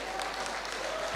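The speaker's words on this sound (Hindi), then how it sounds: "तालियां बजाओ इनके लिए," An audience at a Hindi lecture on keeping parents happy breaks into applause, a steady, dense, fairly distant wash of clapping that continues evenly throughout.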